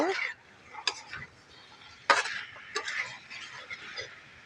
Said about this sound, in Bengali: মশলার সঙ্গে কাঁঠালটাকে ভালো করে কষিয়ে নেব